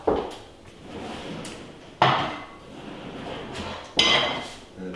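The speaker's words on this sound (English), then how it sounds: "I'm going to get a frying pan right now." Three distinct clanks of a metal frying pan and cookware being pulled out and set down, spaced about two seconds apart, close and moderately loud.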